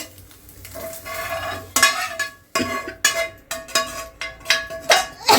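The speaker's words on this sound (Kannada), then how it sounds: "ಈ ಥರ ಉದ್ರುದ್ರಾಗಿ ಮೊಟ್ಟೆನ ಫ್ರೈ ಮಾಡ್ಕೋಬೇಕು. ಮೊಟ್ಟೆನ ಸೈಡಲ್ಲಿ ಎತ್ತಿಟ್ಕೊತೀನಿ." Eggs frying in a pan are scraped and pushed aside with a metal utensil, making repeated sharp clinks and scrapes against the pan in an uneven rhythm over a light sizzle, close and clear with no voices.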